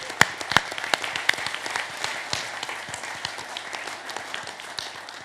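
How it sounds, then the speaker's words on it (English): Conference audience applause, a dense, fairly close patter of many hands that begins with a few sharp claps and fades slightly over five seconds. "so a round of applause for all of you."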